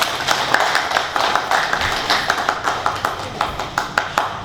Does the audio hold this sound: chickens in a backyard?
no